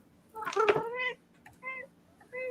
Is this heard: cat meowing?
yes